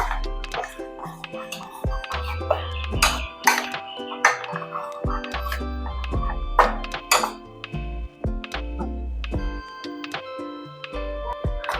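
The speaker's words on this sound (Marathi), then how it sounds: "आपण थोडंसं हलवून घेऊया।" A spoon clinks and scrapes against a pan as melting jaggery is stirred on a gas stove, with irregular metallic taps and rattles close by, no talk.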